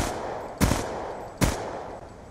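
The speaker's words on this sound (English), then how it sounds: "There you go, 3 shots again with no FMJ." Two sharp gunshots from a weapon without the FMJ attachment in Black Ops 2, fired in the video game about a second apart, loud and close against a low steady background.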